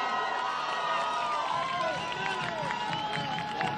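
A large outdoor crowd cheers and applauds at an MAS election-victory celebration rally, a dense, steady roar of voices and whistles that carries on without a break.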